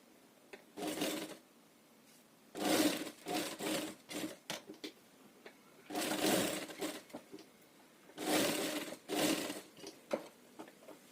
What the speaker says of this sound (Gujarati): અહીંયા અહીંથી અહીંયા આમ સિલાઈ લગાવી દેવાની છે